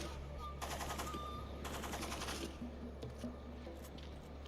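Bursts of automatic turret gunfire in the video game Splinter Cell Pandora Tomorrow, two sustained rattling volleys followed by a few shorter shots, moderately loud over a low steady hum.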